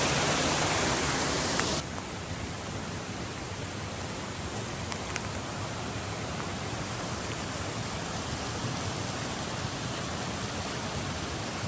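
Clear mountain stream flowing beside a stone wall on a rural property in northern Portugal, a steady close hiss and burble of running water, unbroken throughout.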